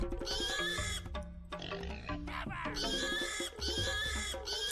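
Pig units oink and grunt in the autobattler video game Warboss, with several snorting squeals in quick succession amid game sound effects.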